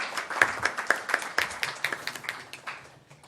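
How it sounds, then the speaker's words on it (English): A small crowd at a congressional event gives a brief round of applause, scattered individual claps forming an uneven patter that thins out and fades toward the end. "Let's give her a round of applause"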